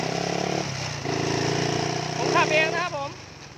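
A Honda Wave 110i motorcycle with a 53 mm bore, stock valves and a quiet exhaust idles with a steady, low, buzzing hum that dips briefly, while someone talks over it.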